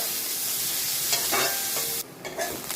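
Onion frying in a pan on a high gas flame, a steady bright sizzle with scraping stir strokes, close and moderately loud, with no talking.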